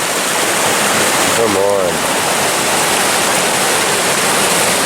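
A river strewn with chunks of an old bridge rushes loudly and steadily outdoors, with a brief spoken voice partway through.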